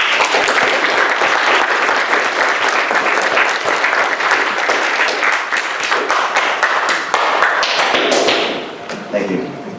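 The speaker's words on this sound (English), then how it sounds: "so give them a big round of applause." A large indoor crowd at an airsoft meetup during the IWA Outdoor Classics 2019 trade fair gives a loud, dense round of applause that runs steadily for nearly ten seconds before thinning out at the end.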